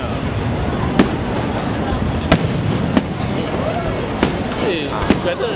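Chinese New Year fireworks in Singapore burst close by, sharp bangs arriving at irregular intervals over a steady roar of crackle and crowd noise, with people chatting throughout.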